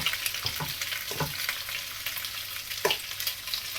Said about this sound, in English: Give that pasta a stir up